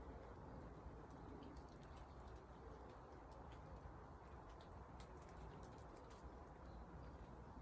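Faint, distant pigeons coo softly in the background, low murmuring calls over a quiet outdoor ambience with occasional small clicks.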